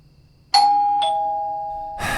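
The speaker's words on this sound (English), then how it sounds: "There better be a good reason someone is ringing my doorbell at 10:30 at night." A doorbell in Minecraft rings out loud and clear in an otherwise quiet scene, two bright chimes with a lingering tone before a burst of noise cuts in at the end.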